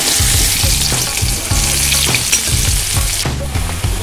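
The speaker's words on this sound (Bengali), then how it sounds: "তার জন্য আলুটা ভেজে নিচ্ছি" Potatoes frying in oil for aloo dum, a loud close sizzle under rhythmic stirring thumps against the pan, several strokes in quick succession with no talk.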